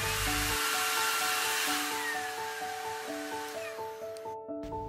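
A U-STIK cordless stick vacuum cleaner from Umeda runs at its second, louder speed, giving a steady, close, high-pitched whine with an airy rush that holds throughout and cuts off briefly near the end.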